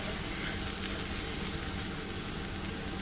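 Onion, tomato, garlic and ginger roast on a hot griddle pan, producing a constant dense sizzle, close and unbroken, without any voices.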